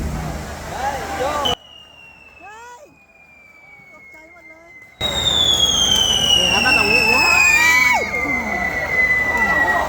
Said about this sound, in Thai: นี้มีจุดพลุ400 กว่านัดค่ะ